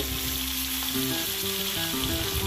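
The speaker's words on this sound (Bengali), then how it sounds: "এবার আমি মাছটা ভেজে নেব, তাই গ্যাসে কড়াই বসিয়ে দিয়ে দিয়েছি পরিমাণ মতো সাদা তেল।" Rohu fish fries in white oil in a wok on a gas stove, giving a loud, continuous close sizzle that crackles steadily throughout, with a faint humming tone underneath.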